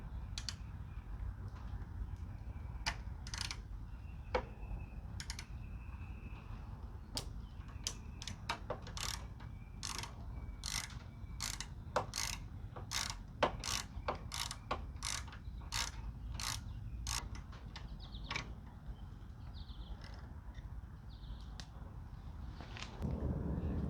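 A hand ratchet clicks steadily while removing bolts on a Honda Rebel 1100 motorcycle, a long run of close, crisp ticks in quick bursts over a low ambient hum.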